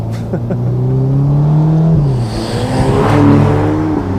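Ferrari Portofino M with gas particulate filters, its engine giving a deep, bassy exhaust drone that rises and falls in pitch across gear changes, loud and steady throughout.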